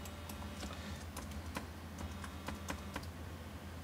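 Quick, light keystrokes tapped on a computer keyboard at a desk, a brisk uneven patter of close clicks over a low steady hum, quiet and with no talking.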